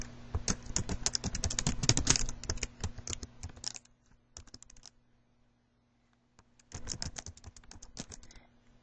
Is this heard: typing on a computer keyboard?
yes